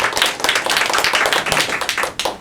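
Audience applause during a Korean council radio show, a steady run of hand clapping lasting a couple of seconds with no talking over it.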